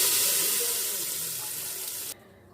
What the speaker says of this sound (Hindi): अब इसको हम दाल में डाल देंगे।